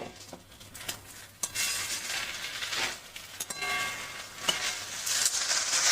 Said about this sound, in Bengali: পাঁচ মিশালি সবজি দেখতে পাচ্ছ তোমরা যে ভাজা চলছে